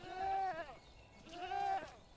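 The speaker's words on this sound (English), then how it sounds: "Okay, goats, hush." Goats in the video game Medieval Dynasty give two drawn-out bleats, each about half a second long and separated by a short pause. Both are faint and come through clearly.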